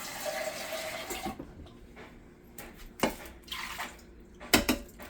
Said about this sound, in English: I do fill a little bit with water